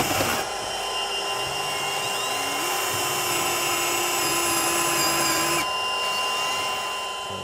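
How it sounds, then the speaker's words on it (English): A power drill fitted with a slightly larger bit bores into a wall at an angle, its motor whining steadily and loudly through the whole stretch, with the pitch rising under load in the middle before easing off. "I've got to use a slightly larger bit to drill into the wall there, and I'm also going to try and drill at a bit of an angle"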